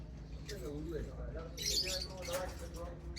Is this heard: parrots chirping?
yes